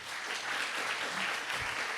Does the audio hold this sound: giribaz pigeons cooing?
no